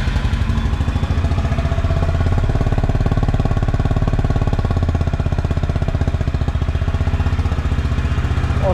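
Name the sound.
Honda Hness CB350 motorcycle engine starting and idling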